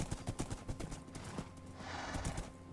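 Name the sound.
horses' hooves clip-clopping in Minecraft video game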